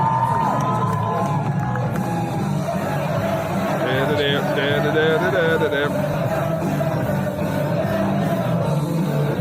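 An indie wrestling crowd cheers and shouts in a lively continuous roar, with whoops and music playing through the noise while voices carry on over it.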